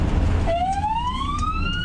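An ambulance siren in Portugal starts halfway through as a loud, steadily rising wail over traffic rumble, with no voices.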